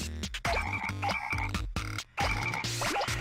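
Toads croak in the video game Katamari Damacy Reroll, a rapid series of loud, close, pulsing croaks in short bursts with brief pauses between them.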